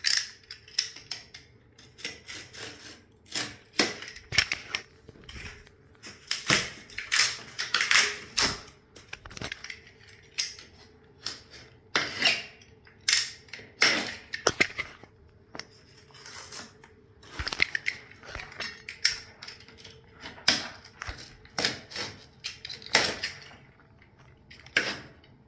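A utility knife scores and slices during tiling finish work on an accessible bathroom sink installation, giving sharp irregular scraping strokes in bursts with short quiet gaps, close and fairly loud.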